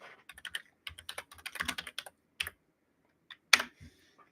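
Keys on a computer keyboard are typed in quick irregular bursts with short pauses, close and fairly quiet, ending with a sharper, louder clack and a couple of final taps.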